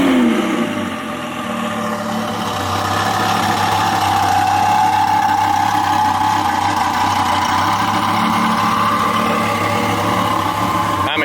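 Audi R8 V10, built for 1500 horsepower, starts and settles into a loud, close, steady idle, a deep continuous engine drone with a brief rise in pitch as it catches, no talk over it.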